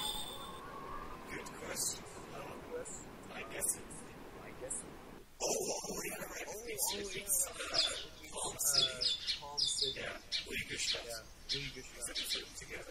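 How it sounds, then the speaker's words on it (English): Indoor birds chirp and tweet in a room, bright short calls scattered throughout at moderate level, mixed in with people talking over a game. "I hear a bunch of birds"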